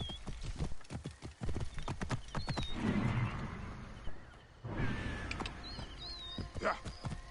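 Horse hooves clip-clop steadily in Assassin's Creed Origins, a rhythmic run of close, crisp hoofbeats with a brief whinny, mixed under in-game speech.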